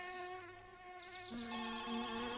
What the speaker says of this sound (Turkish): Şu sinek de arkadaşlar bir gitmedi ya.